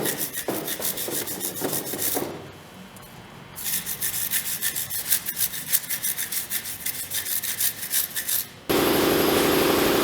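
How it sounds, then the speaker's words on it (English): A brush scrubbing the intake ports of a Ford SVT Contour intake manifold soaked in Seafoam cleaner: rapid back-and-forth rasping strokes, close and rhythmic, pausing briefly partway, then a steady hiss near the end. "stick your brush down in the Seafoam. And just work your way through every single port"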